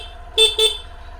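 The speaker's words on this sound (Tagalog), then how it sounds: "check naman natin yung busina" Two short, bright honks from a Suzuki Burgman 125 scooter horn, close by, separated by a brief gap over a low idle hum.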